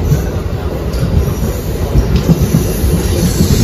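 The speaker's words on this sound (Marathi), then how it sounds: "आपण जिने प्रवास करतोय कोकण रेल्वेची ICA मेमो" Konkan Railway ICA MEMU train running on the Panvel to Ratnagiri line, a steady loud rumble of wheels and carriage with faint rhythmic clatter throughout, no voices.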